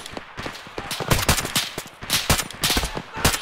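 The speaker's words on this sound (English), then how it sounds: "we're taking shots from southeast" Rapid, dense gunfire in the military video game Arma on the Malden map, with overlapping bursts and single shots cracking back and forth continuously at close range.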